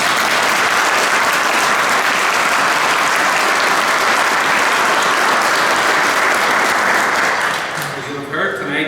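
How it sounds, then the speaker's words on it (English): Concert audience at an anniversary band concert at Stormont Buildings claps loudly and steadily for several seconds, the dense applause thinning and fading near the end as a voice begins to speak. "Can I ask, please, for a round of applause for them?"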